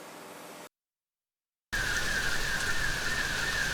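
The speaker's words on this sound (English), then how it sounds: "if you're hearing that noise, that's because people are right now power washing" Power washers blast mud off streets in Port Jefferson after Ida flooding, a loud continuous hiss with a steady high whine, broken by a second of dead silence before resuming.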